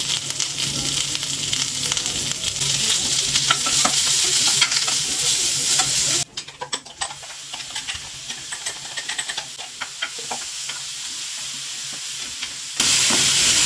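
Curry leaves, turmeric and asafoetida crackle and sizzle in hot tempering oil, a steady loud frying hiss with stirring scrapes, briefly dropping lower partway before flaring up again near the end.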